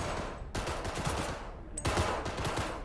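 Dense rapid gunfire at a shooting range in Cyberpunk 2077, sustained bursts filling nearly three seconds with a brief pause midway, loud and close.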